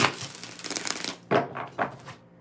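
Cards riffle in a steady rush, then three short shuffling bursts follow with small gaps between them, close and clear.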